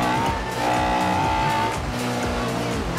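Honda S2000 in Forza Horizon 2 with a loud, steady engine and exhaust note that crackles and pops under load, running continuously with strong harmonic tone throughout, no voices.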